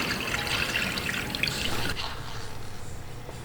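Coolant poured into a Chrysler Town and Country engine, splashing and trickling liquid that sprays over the belt, then settles into softer rhythmic dripping, close and moderately loud.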